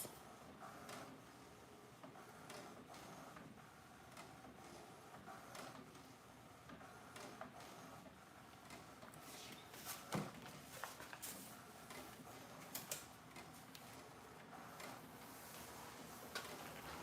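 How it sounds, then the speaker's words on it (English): A label printer feeds and prints labels with a steady mechanical whir broken by soft clicks and ticks, running continuously at close range with no talking. "This one print slower. Yeah. It's printing right."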